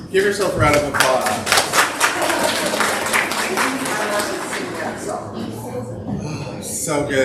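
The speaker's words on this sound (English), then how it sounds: "Give yourself a round of applause." Congregation clapping at a Sunday church service, a dense stretch of hand claps filling the room, mixed with voices and cheers throughout.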